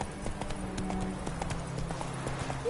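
Hoofbeats of Geralt's horse Roach in The Witcher game, a steady clip-clop gallop of repeated hoof strikes at close range over a constant background bed, with no talking.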